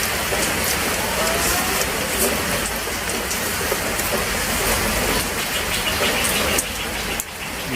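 Heavy rain pours down steadily outdoors, a dense loud hiss of drops striking surfaces that stays constant throughout, with a brief dip near the end.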